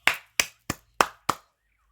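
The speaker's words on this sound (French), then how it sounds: "Ça mérite des applaudissements." Five separate, crisp hand claps ring out alone at an even pace, then stop.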